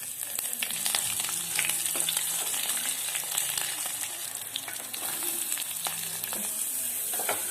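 Mustard seeds and curry leaves sizzle in hot oil for a yogurt chutney, a steady close crackle with scattered pops and light stirring throughout, no voices.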